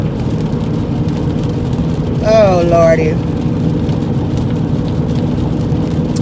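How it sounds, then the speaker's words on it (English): Steady wash of rain and tyre noise from a car driving on a highway in the rain, a continuous close hiss and rumble with someone briefly speaking over it. "I hate driving on the highway in the rain."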